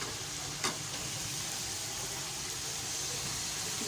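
Chopped onions tipped into a hot pan of drying tomato masala for a degi chicken korma, giving a steady close broadband sizzle with a brief louder burst near the start, with no talking.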